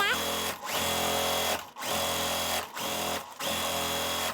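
A sewing machine stitches pieced quilt block fabric in steady runs, its motor whirring loud and close in four bursts separated by short pauses.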